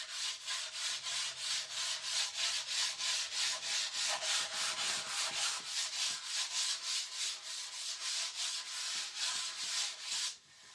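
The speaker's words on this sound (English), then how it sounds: "I'm going to lightly sand over this as well" A stenciled surface gets sanded lightly by hand in a steady run of rhythmic back-and-forth rubbing strokes, close and fairly soft, with no talking.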